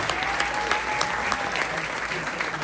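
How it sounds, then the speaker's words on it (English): Steady applause from a packed community audience for volunteers at a launch event, loud and continuous with dense clapping throughout; a faint tonal whistle or voice drifts underneath. "can you help me give them one more round of applause"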